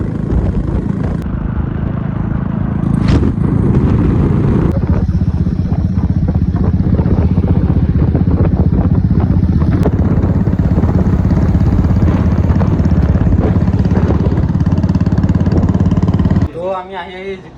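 Motorcycles riding on a road during a Holi outing, a loud continuous engine drone up close that drops away near the end, with talk over it.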